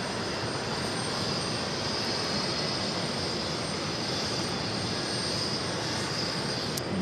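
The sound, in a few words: jet airliner taxiing at JFK airport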